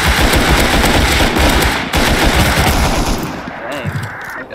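Rapid automatic gunfire in the game Rust, aimed through a staircase during an Oil Rig raid: dense, loud, near bursts that run almost without pause, easing slightly toward the end.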